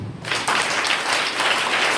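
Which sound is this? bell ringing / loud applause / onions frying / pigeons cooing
loud applause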